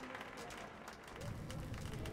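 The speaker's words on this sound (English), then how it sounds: "A round of applause." Crowd applause at a fire show performance in the video game Metro: Last Light, a faint wash of clapping from an audience, with voices mixed in.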